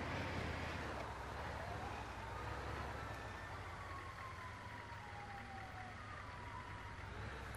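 A wailing ambulance siren in the video game GTA V sweeps up and down at a distance, over steady rumbling engine noise and ambient background hiss.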